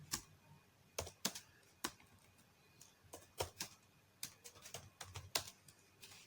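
Keys clack on a computer keyboard as a scene prompt is typed, in short irregular bursts of crisp, close, fairly quiet taps over a faint background hum.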